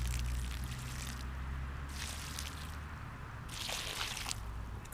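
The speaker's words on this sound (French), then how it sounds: "on arrose assez copieusement" Water splashing and trickling onto soil as freshly planted lettuce seedlings in a vegetable garden are watered generously, coming in three soft pouring bursts over a low steady background hum.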